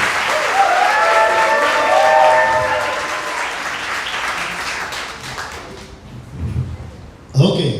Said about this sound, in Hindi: एक बार जोर से ताली बजाने के लिए